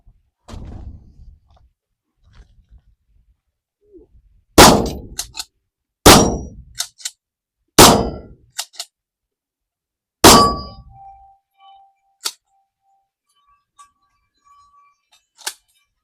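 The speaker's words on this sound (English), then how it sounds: "Now for the shooting." A cheap pump-action home-defense shotgun fires four loud, sharp blasts, each with a fading outdoor echo, spaced a couple of seconds apart and followed by faint clicks and handling sounds.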